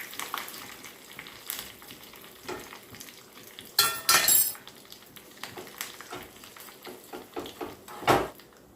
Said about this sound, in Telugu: అట్లనే ఆవాలు, జీలకర్ర కూడా వేసుకొని ఒకసారి కలుపుకోవాలి